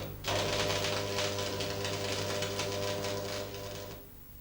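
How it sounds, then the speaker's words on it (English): Electric arc tack welding on a steel T-joint, giving a steady close crackling buzz with a constant low hum that starts abruptly and holds for about four seconds before fading off. "you can hold the pieces in place while you tack weld them"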